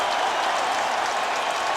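A UFC 249 arena crowd on its feet, applauding steadily after a rear naked choke, forming a dense, continuous wash of clapping with no individual voices standing out.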